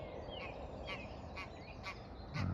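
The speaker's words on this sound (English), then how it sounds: "You'll have to excuse the geese, it's their time of year, and yeah, they make an absolute racket." Large groups of geese honk repeatedly in a steady series of calls about half a second apart at a fishery near a dam, heard over a constant rushing outdoor background.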